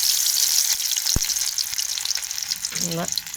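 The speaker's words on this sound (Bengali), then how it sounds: "আমি এইভাবে লম্বা লম্বা করে ভাজবো" Elongated prawn fritters fry in hot oil with a strong, continuous bright sizzle. A single knock lands early, and a short tonal sound near the end rises briefly above the frying.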